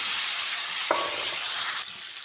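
Eggplant drops into a hot pan of sizzling oil tempered with mustard seeds, fenugreek and curry leaves, onion and coconut, giving a steady loud frying hiss with a brief clatter as the pieces land.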